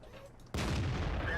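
A sudden loud tank cannon shot in World of Tanks, one heavy blast that cuts in abruptly after a quieter engine rumble and keeps roaring for almost a second.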